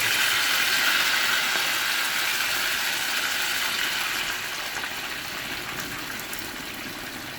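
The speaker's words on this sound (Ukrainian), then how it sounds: "Також додаю туди отаке світле пиво" Light beer pours steadily into a pot of pork belly, a loud continuous fizzing gush that fades slightly toward the end.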